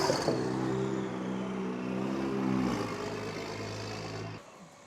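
A 2020 Toyota Supra rolls back and forth across a parking lot after a brake bleed, its engine humming steadily and lifting in pitch briefly before easing off and cutting out near the end.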